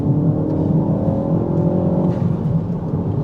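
A tuned Mk4 Ford Focus ST pulling hard in third gear, a steady loud engine drone with a rising tone as revs climb from inside the car.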